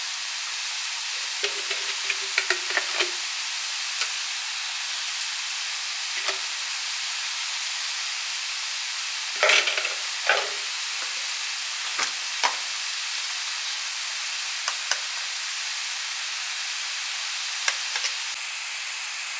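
Grated coconut being stirred in a frying pan with salt and turmeric for banana flower stir fry: sparse, soft scrapes and taps of the spoon over a faint, steady sizzle, quiet and close, with no talking.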